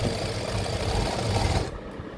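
An electric sewing machine hemming a kurta runs with a steady whirring motor drone for about a second and a half, then stops abruptly, leaving a quieter residual hum.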